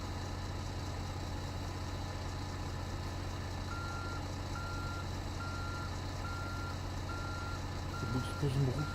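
Evenly spaced reversing beeps from a truck in American Truck Simulator sound over a steady idling engine drone, with a brief louder rumble at the end.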